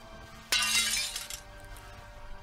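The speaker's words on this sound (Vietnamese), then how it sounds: "Bình hoa xuyên thẳng qua cơ thể của bà Cúc rơi xuống đất vỡ tan." A vase is thrown and smashes on the floor, one sudden loud shatter of breaking glass or ceramic with a brief tinkling spray of fragments that quickly fades into quiet room tone.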